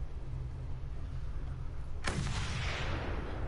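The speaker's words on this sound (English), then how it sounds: "Time to put this sniper rifle to the test." A single sharp, loud sniper rifle shot in the video game Mad Max cracks out midway through, with a ringing tail, over a steady low background rumble.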